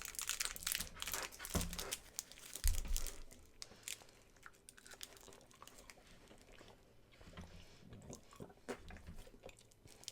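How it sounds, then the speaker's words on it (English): Chewing on a rich, chewy chocolate fudge candy, with close, soft sticky mouth sounds and crinkling wrapper noises spread through the clip, with no talking. "It's not hard to chew, it's just really chewy."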